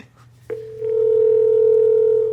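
A telephone dial tone comes on as a call is being placed at a motorsports shop: a steady, loud continuous tone that starts after a short click and holds alone without talk.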